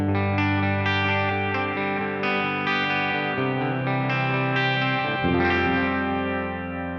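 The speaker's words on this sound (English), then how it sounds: "And now we have an analog delay." An electric guitar plays through an analog delay effect on a Boss Katana 100 MKII head, a run of distorted notes and chords with warm, decaying repeats, loud and continuous without speech.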